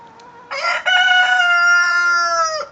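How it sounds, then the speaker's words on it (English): A single loud rooster crow rings out up close, a drawn-out harmonic call lasting about two seconds against a quiet background. "I like to hear his crowing."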